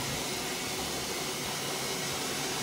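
A Kenmore laundry center washer spins and drains with a steady, dense, loud whooshing roar that holds unchanged throughout.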